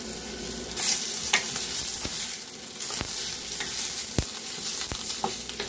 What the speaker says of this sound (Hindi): बैगन हमारा अच्छे से फ्राई हो गया है